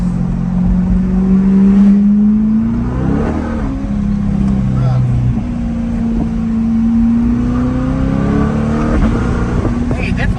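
A Corvette C8 engine revs up and down repeatedly through a newly fitted exhaust, a deep rising and falling roar with voices talking over it.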